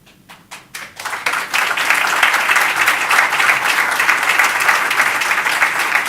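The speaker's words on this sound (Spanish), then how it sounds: "Muchas gracias por los aplausos" An audience at a medical conference session on fistulography bursts into applause after a few scattered opening claps, swelling into loud, sustained clapping that fills the room with no voices over it.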